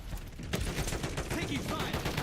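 Rapid gunfire crackles in the XDefiant shooter game, a dense burst of shots running through a short stretch, fairly loud and close.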